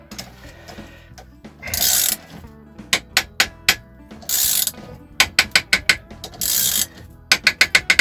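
Bursts of sharp ratcheting clicks alternate with short whirring mechanical spins, repeated in quick rhythmic runs as a bearing puller is cranked tight to pull a bearing off a Jawa 20 motorcycle shaft.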